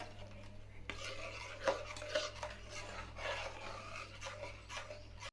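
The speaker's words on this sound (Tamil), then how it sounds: "இதை நல்லா கெட்டியாகிற வரைக்கும் கிளறி விட்டுக்கிட்டே இருப்போம்." Milk thickens in a pan over low heat for homemade kulfi while a spoon stirs it, giving quiet, uneven scraping and rubbing strokes against the metal with a soft clink, faint and close with no talk.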